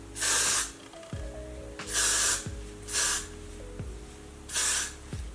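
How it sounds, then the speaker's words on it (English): Four short, close hissing bursts of freeze hairspray from an aerosol can sprayed around the hair, separated by brief pauses, with faint clinking in between. "And I pretty much just like spray around my hair"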